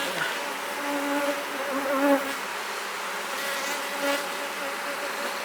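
Agitated honey bees buzz loudly around an open hive late in the day, a constant close drone with occasional individual bees whining past.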